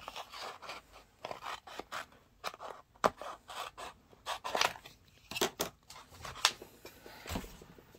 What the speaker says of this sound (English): I'm just going to come over here and cut a little bit of transfer tape here.